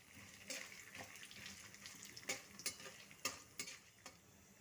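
Chana dal and urad dal fry in refined oil with a little salt in a kadai, a faint soft sizzle broken by several crisp scraping stirs.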